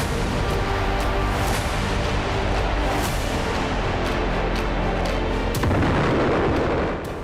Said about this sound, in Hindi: आसमान से शहर पर बमों की बौछार कर रहा है।